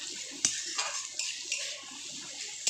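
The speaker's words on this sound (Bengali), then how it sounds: "আমরা পেঁয়াজ দিয়ে এরকম করে একটু কড়াইয়ের মধ্যে নেড়ে নিলে খুব ভালো লাগে খেতে" Onions fry in a wok for eggplant bharta while being stirred, with a steady close sizzle and sharp scraping clinks of the spoon against the pan.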